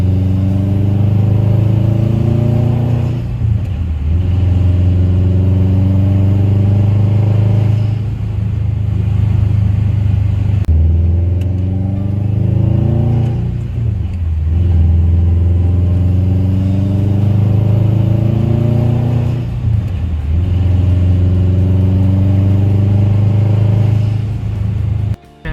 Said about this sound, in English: I bought a 2008 Subaru WRX. Exhaust was already done.